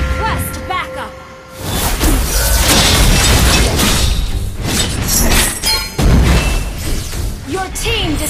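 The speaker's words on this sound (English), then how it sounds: "Destroyed a turret!" A Mobile Legends turret being destroyed makes a loud, sustained burst of crashing, shattering explosions layered with game effects. A brief spoken line comes first.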